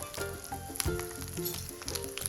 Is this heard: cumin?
yes